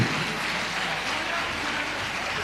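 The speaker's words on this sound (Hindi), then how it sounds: "एक बार तालियां पुनः बजा दीजिए, बजाते रहिए" An audience at a camp closing ceremony in Ashok Nagar claps continuously, a dense, even wash of applause heard from a moderate distance.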